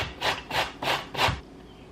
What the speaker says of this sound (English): Then you're gonna take a cheese grater and grate the pear.